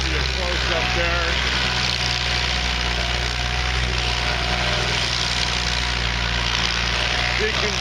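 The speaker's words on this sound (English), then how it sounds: "Now Dustin's moving through the stump, give you a close up there." A stump grinder powered by a 50 horsepower diesel engine chews through a large stump in a yard, a loud, steady, dense roar running throughout, close by.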